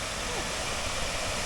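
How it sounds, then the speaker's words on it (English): Steinsdal waterfall roars in a steady, broad rush of falling water, continuous and fairly close, with faint talk mixed in. "to me that's a stunning waterfall"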